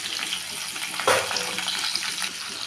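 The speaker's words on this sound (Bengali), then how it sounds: "আলুটাকে একটু ভেজে নেব।" Boiled potatoes frying in a pan of oil with cumin and asafoetida, a loud, even hiss with a brief sharper flare of sizzle partway through, and no talking.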